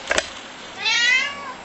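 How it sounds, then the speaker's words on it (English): A cat meows once indoors during a monitor repair, a clear rising-and-falling cry in the second half, preceded by a couple of short clicks or taps, with no talking. "We got a cat coming in."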